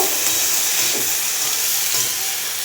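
Cauliflower and potato frying in a pan give a loud, steady, close hissing sizzle that runs unbroken for a few seconds, with faint stirring touches underneath.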